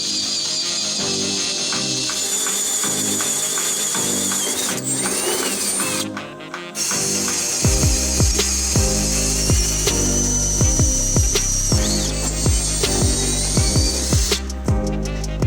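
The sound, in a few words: drilling a hole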